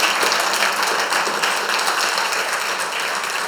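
A church congregation claps and applauds in a dense, even patter of many hands, sustained and fairly loud throughout, with no talk over it.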